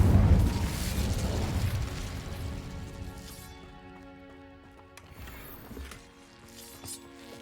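Incendio fire spell in Hogwarts Legacy bursts loudly at the start, then its roar fades over several seconds beneath a sustained musical score.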